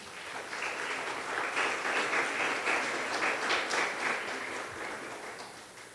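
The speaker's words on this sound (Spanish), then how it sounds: "dele palmas entonces al que vive" A church congregation claps together during a sermon, a steady wash of many hands that swells in the middle and eases off toward the end, with no speech over it.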